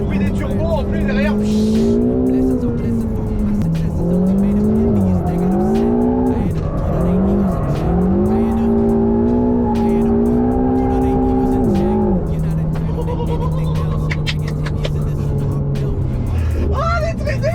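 A Ferrari engine with turbos roars steadily and loudly at close range, its pitch rising and falling with throttle as the car crawls through Monaco traffic, with a voice talking over it.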